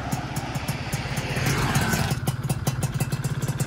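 A Suzuki FIZR motorcycle engine running for the first time on a test frame, carburettor not yet tuned with the air box filter still fitted, idling unevenly with a steady close throbbing beat and mechanical clatter, a brief rise in revs midway.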